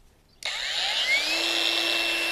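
A Procraft power tool set to speed three starts abruptly after a brief silence and settles into a steady, loud, close motor whine with faintly rising tones, heard alone.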